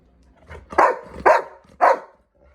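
A dog barks three times in a steady rhythm, close and loud, with brief quiet between barks.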